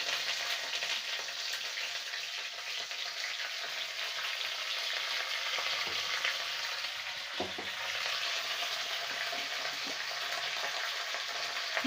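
Curry leaves and black mustard seeds sizzle and crackle in hot oil, a loud, steady close frying hiss that continues throughout with a brief stir partway, no talking.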